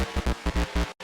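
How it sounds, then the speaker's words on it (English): A pounding Russian rave electronic dance loop with thick, rapid beats repeating about six times, then a sudden cutoff and one final hit. "A Russian rave loop."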